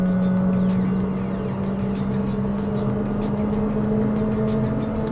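A Honda WR-V engine pulls hard through the gears, heard from inside the cabin as a loud, continuous drone whose pitch climbs steadily.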